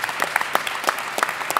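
Scattered clapping from a few people at the Ohio EMS Conference, a run of distinct claps at an uneven pace, moderately close and without talk.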